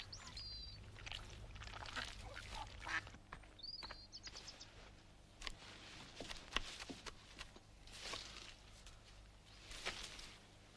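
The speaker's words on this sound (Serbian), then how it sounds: "A ovo su divne patke čija si jaja jela sinoć." Ducks kept in a farmhouse yard give several scattered quacks over about ten seconds, mixed with light footsteps and background rustling, moderately close.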